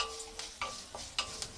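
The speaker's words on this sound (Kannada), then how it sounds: "ನೋಡಿ, ಸಾಸಿವೆ ಸಿಡಿತಾ ಇದೆ." Mustard seeds and cumin crackle in hot oil for a tempering, with a handful of sharp, separate pops spread across a steady low sizzle, close and fairly quiet.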